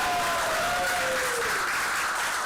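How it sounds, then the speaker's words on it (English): Audience applause fills a community arts showcase space, a dense, steady wash of clapping that holds at full strength for the whole stretch, with a faint whistle-like tone gliding downward through it early on. "so give a big round of applause to everyone involved."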